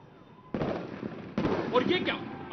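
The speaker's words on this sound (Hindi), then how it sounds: "अचानक बी ब्लॉक के सामने स्थित कैप्टिव पावर प्लांट के ट्रांसफार्मर में विस्फोट हो गया है" Two sharp blasts from a transformer explosion staged during a CISF Day parade fire rescue demonstration, each sudden and loud with crackling debris trailing after, while someone talks underneath.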